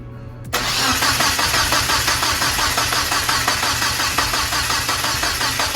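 A Mazda Protege turbo car engine cranks over after a brief quiet moment, then churns loudly and rhythmically with a steady pulsing chug, close by and with no talking.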